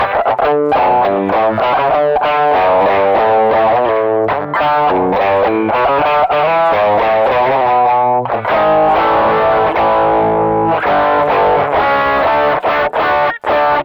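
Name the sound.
overdriven electric guitar through amplifier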